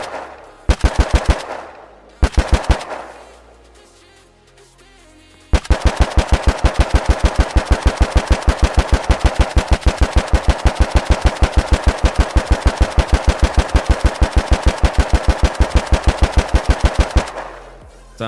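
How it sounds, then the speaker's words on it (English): A submachine gun with a 100-round magazine fires in a video game, loud and close: two short bursts, a pause with mechanical handling sounds, then a long rapid stream of evenly spaced shots ending abruptly. "We have SMG. We have our own recoil system that's fully networked."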